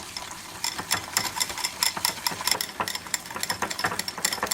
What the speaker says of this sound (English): I'm just going to whisk that around so the sugar will melt